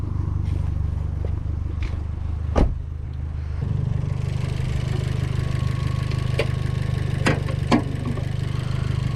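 An Abarth 500's 1.4-liter four-cylinder engine idles steadily nearby with a low, even rumble, broken by a few sharp clicks and ticks.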